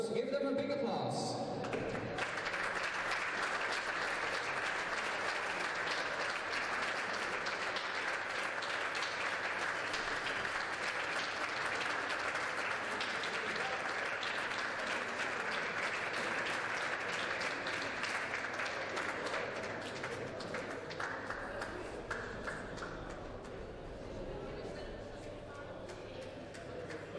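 A crowd applauds the boys and girls medalists of the 2015 WSF World Junior Squash Championships, steady clapping that fills the hall for most of the stretch before thinning and fading toward the end.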